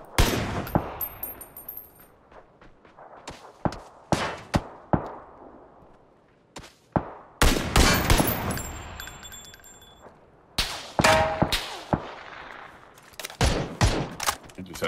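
Gunfire in the battle royale game PUBG: scattered sharp single shots and short bursts, some loud and close, others quieter, spread unevenly through a tense firefight with brief gaps between volleys.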